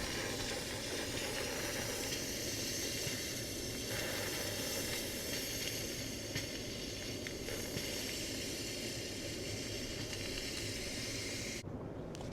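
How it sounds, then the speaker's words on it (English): Compressed air from a shop air line blasts steadily through the brake system of a 1991 Polaris Trail Boss 250 four-wheeler, a loud, unbroken broadband hiss that holds nearly constant for twelve seconds before a brief drop at the end. "the air line's plugged in. You can see it's expelling the brake fluid."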